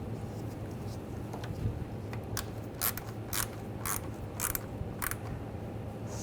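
A screw is driven into the radiator and condenser fan assembly of a 2011-2018 Volkswagen Jetta, heard as a series of close, quiet ratcheting clicks in short bursts against a faint background hum.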